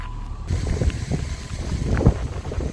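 Strong summer wind in Moncton, New Brunswick, buffets the microphone with heavy, low rumbling gusts, loud and continuous with no voices.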